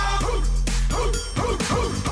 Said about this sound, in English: there's a cute dog walking by me on the street